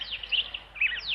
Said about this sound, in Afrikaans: 'n Swerm kwetterende mossies sluit by hulle aan.